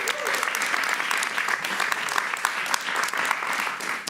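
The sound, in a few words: studio audience applause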